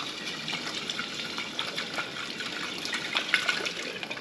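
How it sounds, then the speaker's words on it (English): Kangen water runs over alfalfa and broccoli sprouts during rinsing, a steady close-up splash and trickle from a tap with small drips and spatters throughout. "So we're just going to rinse them really good."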